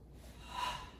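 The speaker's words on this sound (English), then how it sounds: "I'm going to exhale on the exertion." A forceful karate exhale during exertion, one sharp breath that swells and fades within about a second, close and fairly quiet with no talking.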